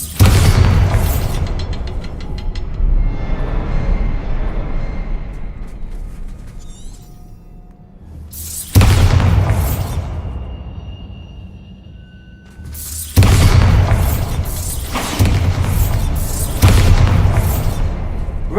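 A Bombarda spell explodes in a wizard-school video game: three loud, sharp booms, each decaying over several seconds into a fading rumble, with quiet gaps between.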